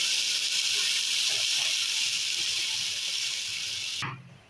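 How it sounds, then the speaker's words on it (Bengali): Water poured into a pan of hog plums lightly fried with salt and turmeric for a sweet-sour chutney makes a loud, steady hissing sizzle that continues for about four seconds, then cuts off abruptly; no one talks. "এবার এর মধ্যে দিয়ে দেবো পরিমাণ মতো জল"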